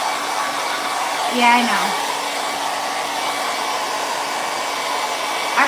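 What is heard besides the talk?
hair dryer drying a sanded craft piece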